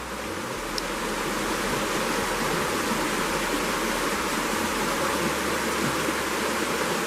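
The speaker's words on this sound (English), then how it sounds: "the main stream here is Trout Creek" Trout Creek rushes steadily where Crater Creek enters it, a loud, close, unbroken broadband wash of flowing water with no voices.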